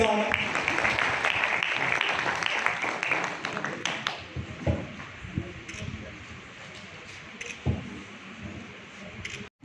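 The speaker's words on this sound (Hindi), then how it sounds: "तालियों के साथ।" An audience at an education society award ceremony breaks into applause, a burst of clapping that is strongest at first and then thins into scattered claps and taps, with voices murmuring beneath.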